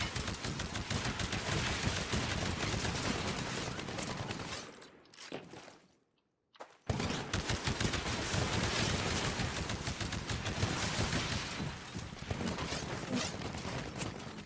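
Rapid, sustained gunfire aimed at a Titan in the video game Titanfall, a dense, loud automatic clatter that drops away for about two seconds in the middle before resuming just as heavily.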